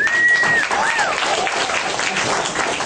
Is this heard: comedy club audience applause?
yes